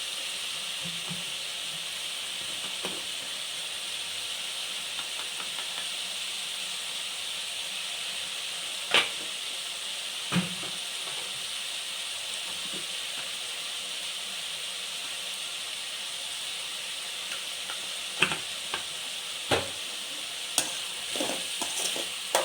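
Tomatoes with turmeric and salt sauté in a pan with a continuous, even sizzle, broken now and then by sharp clicks and scrapes of a spatula stirring.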